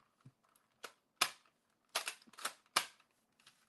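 A Dart Zone Vector toy blaster fitted with a cosmetic mod: a quiet series of sharp, dry plastic snaps and clicks, about eight in under four seconds, spaced irregularly and close by.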